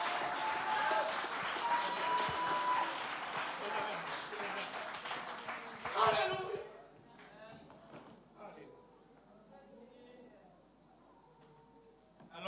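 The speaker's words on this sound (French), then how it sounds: "Mettez debout, applaudis mon Dieu pour protection." Church congregation on its feet clapping and praising God, a dense wash of applause mixed with voices for about six seconds, then fading to scattered sounds and quieter speech.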